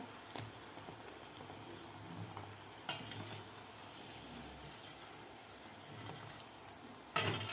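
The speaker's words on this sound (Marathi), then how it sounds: "बालुशाही तळण्यासाठी हवं तर तुम्ही तूपसुद्धा वापरू शकता" Balushahi sweets frying in hot oil or ghee, a quiet steady sizzle and bubbling with occasional soft clinks and stirring taps, fairly faint and without talk.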